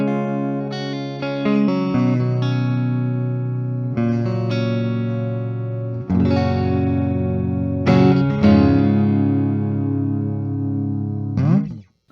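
A 1979 Gibson Heritage electric guitar played through a Marshall Blues Breaker pedal rings out in sustained overdriven chords and single notes, each struck and left to decay, loud and alone.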